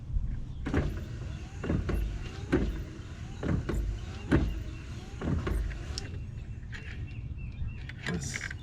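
Wiper motor on a Jeep Cherokee XJ sweeping back and forth, a steady mechanical whir with a regular thump at each stroke, close by.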